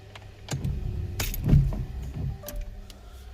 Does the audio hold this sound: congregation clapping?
no